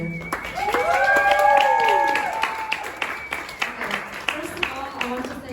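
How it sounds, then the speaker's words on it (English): Audience applause at a talk on a photo interactive art project, a loose patter of clapping that thins into scattered separate claps, with a voice speaking over the start. "Applause for Elena"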